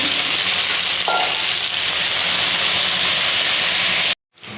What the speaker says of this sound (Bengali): আমি ফুলকপি ভাজা বসিয়ে দিয়েছি